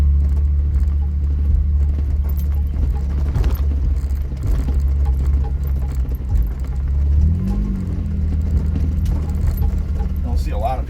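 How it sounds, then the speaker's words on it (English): A car drives along a sand and gravel track at an old quarry, a steady low engine rumble with tyre crunch that swells slightly partway through, heard fairly close without speech. "turns out it wasn't a truck, it was a car."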